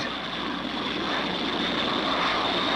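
A jet aircraft roars steadily overhead as a sound effect in a radio drama, a continuous, loud, broadband engine rush with no voices over it.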